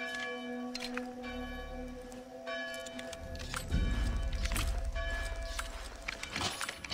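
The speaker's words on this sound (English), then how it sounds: "And an annoying bell." A church bell rings repeatedly in the Assassin's Creed 3 video game, ringing tones recurring at regular intervals over game ambience with a louder rumbling passage midway.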